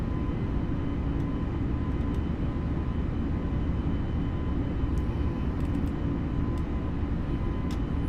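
Airbus A320neo engines at climb thrust just after takeoff, a steady broadband roar with a faint tonal whine, continuous and even throughout, heard from inside the aircraft with no talk.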